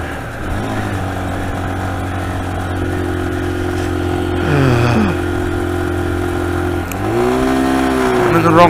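A low-powered motorcycle engine accelerates while riding, a steady close drone with a brief rise in pitch midway and a gear change near the end, continuous throughout.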